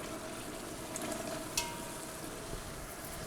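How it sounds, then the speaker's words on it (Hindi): Tomatoes sizzle steadily in a pan for beef pulao while a spoon stirs and mashes them, giving a continuous crackling fry with one sharp scrape or clink midway and no talking. "अब हम इसको चम्मच की मदद से अच्छे तरीके से मेल्ट कर लेंगे।"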